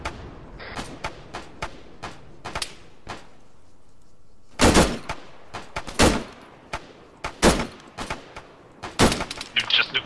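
Gunfire in Arma 3, with sharp rifle shots cracking in irregular bursts and scattered single reports, some close and loud, others more distant, heard under occasional voices.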